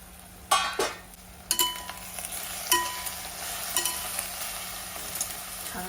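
Spring onion greens frying in oil in a pan while making a Khandeshi brinjal bharit meal, with a steady soft sizzle broken by several sharp stirring scrapes and clinks; no talking.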